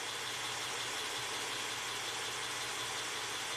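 A hot Honda Accord engine idles smoothly and steadily, a faint, even low hum under a soft wash of broadband noise with no stumbles or shaking.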